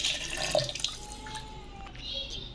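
A cup of water poured into a grinder jar while making a chicken wrap filling, a steady close splashing trickle with small drips, no one talking.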